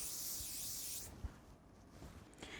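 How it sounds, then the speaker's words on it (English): Hairspray hisses in a single steady burst lasting about a second onto a sleek low bun, then cuts off into a quiet room. "And then give the bun a little spray."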